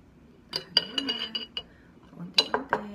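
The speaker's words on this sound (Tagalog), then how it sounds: "lalagay na natin yung sliced lemon sa ginger and honey" Sliced lemon dropped into a glass with ginger and honey, a few bright clinks and taps of glass and utensil, close and fairly loud in short clusters, without speech.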